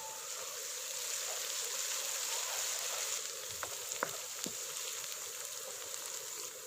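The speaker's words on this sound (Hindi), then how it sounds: "अब इसमें शामिल करेंगे 1 खाने वाला चम्मच अदरक लहसुन का पेस्ट और प्याज के साथ इसको 1 मिनट" Onions with ginger garlic paste fry in desi ghee for masoor dal, a steady soft sizzle with a few light clicks of stirring near the end, heard alone and up close.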